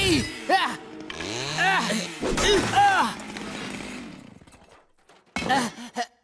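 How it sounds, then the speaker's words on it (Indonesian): A cartoon chainsaw whines and snarls in loud bursts, mixed with animated characters' strained voices, then drops out before a short final burst. "Aku tidak bisa mendengarmu di tengah suara mesin gergaji ini."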